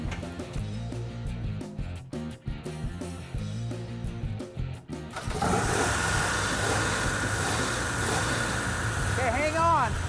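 A car engine, held in neutral, cranks and starts roughly halfway through, catching after a stretch of voices and clunks, then settles into a loud, steady idle with a brief rev near the end while people talk in the background.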